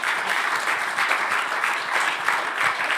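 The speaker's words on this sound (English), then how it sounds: "Give them a big round of applause." A room full of people at a recovery meeting claps steadily in a warm, continuous round of applause, moderately loud with no speech over it.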